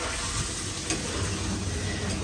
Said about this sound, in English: We are cooking.